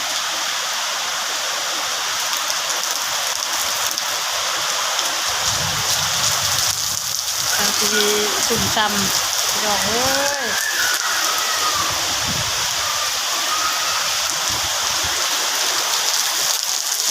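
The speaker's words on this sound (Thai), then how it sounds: "ฝนตกเลยจ้า ทั้งฝนทั้งลมจ้ะ" Steady heavy rain with wind hisses continuously with a gusty, rushing wash, while a person speaks briefly in Thai partway through.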